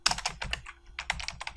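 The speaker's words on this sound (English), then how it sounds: "you're going to type in the server address" Rapid, uneven clicks of fingers typing on a computer keyboard, with a short pause midway, close and fairly quiet, with no talking.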